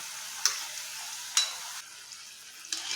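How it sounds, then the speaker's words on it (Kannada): Goli baje fritters deep frying in oil over a medium flame, a quiet continuous bubbling sizzle with occasional brief clicks and splashes, close and without talk. "ಗೋಲ್ಡನ್ ಬ್ರೌನ್ ಆಗೋ ಮಟ್ಟ ಮೀಡಿಯಮ್ ಫ್ಲೇಮ್ನಾಗ ಫ್ರೈ ಮಾಡಿರಿ"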